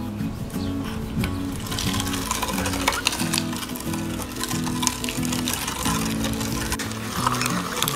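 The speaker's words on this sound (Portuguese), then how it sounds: "Quando eu terminar de moer este lixo orgânico" A kitchen grinder churns organic kitchen waste such as eggshells, orange peels and cabbage scraps for home compost, giving a steady, loud, rhythmic whirring and pulsing hum that runs the whole time with no talk over it.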